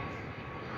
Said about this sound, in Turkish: Yanından geçti gidiyor uçak.